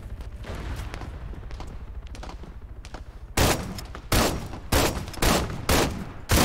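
Series of heavy shotgun blasts in Arma 3 King of the Hill gameplay, about five sharp booming shots spaced roughly half a second to a second apart, preceded by quieter rumbling background noise.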